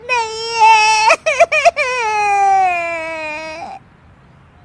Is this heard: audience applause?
no